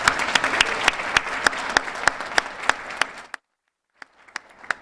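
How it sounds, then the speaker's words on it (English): An audience at an annual community dinner claps, with sharp individual claps standing out over a moderate crowd, then the applause cuts off abruptly before a few scattered claps return. "Let's have a round of applause for them as well"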